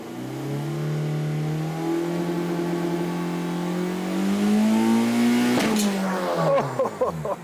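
A 1.9 TDI diesel Seat Ibiza engine revs hard and climbs steadily toward its limit, then a sudden sharp bang as the flywheel fails, followed by rattling, sputtering engine noise.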